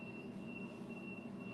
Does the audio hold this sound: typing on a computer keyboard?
no